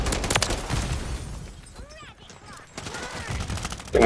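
Gunfire in Modern Warfare 3 Demolition mode, heard as a dense rapid burst of shots at the start and again near the end, loud and close, with a quieter lull between.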